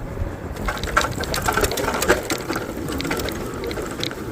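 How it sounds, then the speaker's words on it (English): An AOTOS Flux X26 electric bike ridden off-road over rough ground, its body or fenders rattling and clanking in a steady jumble of knocks with a few sharper hits, close and fairly loud. "It feels like it's just something in the body clanking up against each other."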